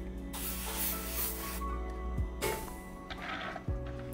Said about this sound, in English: I'll spray these just because I got some.